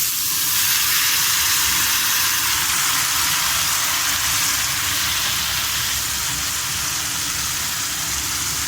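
Shredded cabbage hisses and sizzles loudly in a hot pan for a cabbage and potato fry, a constant close crackling hiss that holds steady throughout with no voices.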